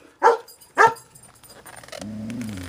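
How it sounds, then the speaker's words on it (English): A dog gives two sharp, close barks, then a softer whine or whimper follows after a short pause. "Sorry about my dog."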